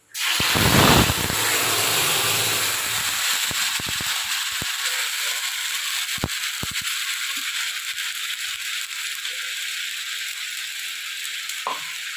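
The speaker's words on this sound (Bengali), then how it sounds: "এবার আমরা মশলাটা কষাতে দিয়ে দিই" Spice paste hits hot oil with a bay leaf in a pan and bursts into a loud, hissing sizzle, which then settles into a quieter, steady frying hiss with occasional small pops.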